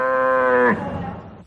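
A single long cow moo, loud and close, holding a steady low bellow before breaking off into a rough fading tail, with no talk over it.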